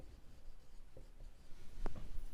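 Quick, faint scratches of a pen or marker writing by hand during a class 10 algebra lesson, a few short strokes building up near the end, with no voices over them.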